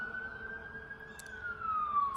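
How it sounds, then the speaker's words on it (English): A single emergency siren passes at a distance outside a quiet residential place, holding a steady wailing tone that slowly drifts down in pitch as it moves away, faint against a low rumbling background. "Excuse the sirens going off here."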